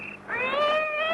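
A cat yowls in a single drawn-out, rising meow, used as a sound effect in an audio drama; the cry is close and clear against a quiet background.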